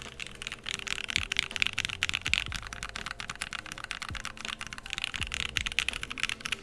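Fast, steady typing on a mechanical keyboard built into a wooden case, the keystrokes deep and clacky and close up, with a few louder thuds mixed into the run of key presses.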